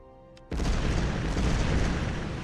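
Artillery fire in the strategy game Empires of Steel, a sudden heavy boom after a brief quiet lead-in, then a dense sustained rumble of massed guns close and loud.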